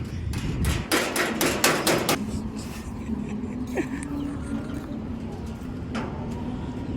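Several sharp hammer blows in quick succession at the start, then quieter surroundings with a faint hum and a distant bird call.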